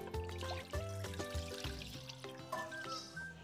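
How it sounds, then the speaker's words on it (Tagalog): Water is poured into a cooking pan while chicken gizzards are prepared, giving a short burst of splashing and trickling mixed with clinks of cookware, close and moderately loud. "Maglagay ng tubig."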